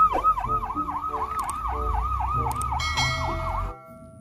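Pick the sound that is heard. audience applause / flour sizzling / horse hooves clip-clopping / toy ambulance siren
toy ambulance siren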